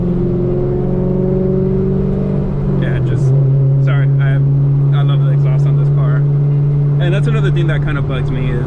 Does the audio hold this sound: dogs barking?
no